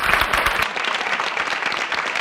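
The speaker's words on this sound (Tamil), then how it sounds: "மாதுளாவிற்கு ஒரு அரங்கம் நிறைந்த கைத்தட்டல் கொடுக்கலாம்" A packed hall of spectators at a Thirukkural speaking contest for school and college students claps enthusiastically, loud and dense at first, then settling into steadier, slightly softer applause.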